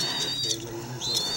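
A pet bird gives soft cooing calls, a few short tonal notes close by, while a person talks gently to it.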